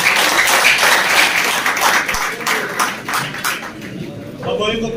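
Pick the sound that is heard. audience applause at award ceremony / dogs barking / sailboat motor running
audience applause at award ceremony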